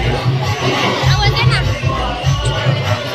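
A large crowd of pilgrims gathered for temple aarti during a Shirdi padyatra fills the air with a dense, continuous babble of voices, with rhythmic low thumps running beneath the hubbub.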